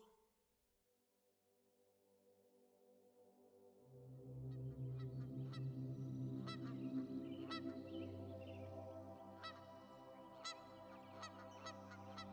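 A flock of geese honking repeatedly, building from quiet to a steady chorus of overlapping calls, fairly close and loud.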